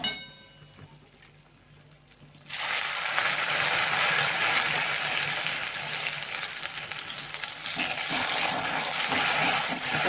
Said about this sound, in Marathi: त्याच्यामध्ये पाणी टाकायचं आपल्याला थोडंसं